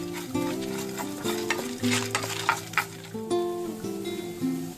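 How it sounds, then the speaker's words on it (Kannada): Peppercorns, cumin seeds and dried red chillies fry and are stirred in a pan, giving a close, steady sizzle with scraping stirs, over a sustained melodic tone. "ಎಲ್ಲ ಚೆನ್ನಾಗಿ ಫ್ರೈ ಮಾಡ್ಕೊಳ್ಳೋಣ ಒಳ್ಳೆ ಅರೋಮ ಬರೋವರೆಗೂ ಫ್ರೈ ಮಾಡ್ಕೊಳ್ಬೇಕಾಗತ್ತೆ"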